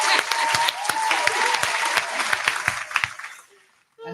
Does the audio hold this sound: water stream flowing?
no